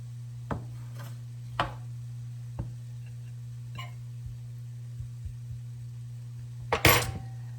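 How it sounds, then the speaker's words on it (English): A knife cuts a boiled egg on a plate, producing a handful of light, scattered clicks and taps over a steady low hum, ending in a louder clatter, close up with no one talking. "And cut my boiled egg."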